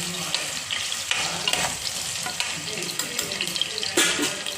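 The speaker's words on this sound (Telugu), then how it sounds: "లో ఫ్లేమ్లో పెట్టుకొని వేపుకోవచ్చు, అలాగే మీడియం ఫ్లేమ్లో పెట్టుకోవాలి" Potatoes fry in oil over a medium flame in a pressure cooker, a steady close bubbling sizzle with occasional stirring clatter and someone speaking over it.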